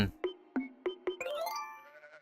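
Sheep in the Build a Zoo video game bleat in a quick series of four short calls followed by a longer wavering bleat, close and clear with no talking.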